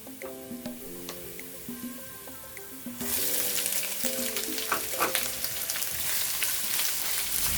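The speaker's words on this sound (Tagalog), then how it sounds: "Lulutuin ko lang sandali yung ating sibuyas" Onion hits hot oil with garlic for an egg curry, and the sizzle jumps from a quiet background to a loud, steady frying hiss partway through, close up with faint stirring and clatter.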